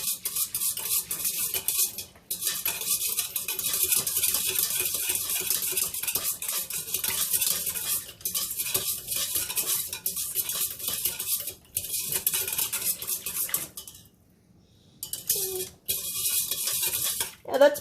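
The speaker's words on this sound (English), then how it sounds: "we're going to do this stir until all of the sugar is dissolved" A spoon stirs sugar into warm water, scraping and clinking steadily against the container for most of the stretch, with a short pause near the end.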